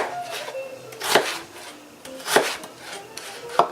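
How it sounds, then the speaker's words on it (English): Knife chopping potatoes into spoon-sized pieces on a cutting board while making chicken and roasted corn chowder: three sharp, distinct chops spaced about a second apart, close and clear, with soft handling noise between strikes. "we'll just keep chopping away"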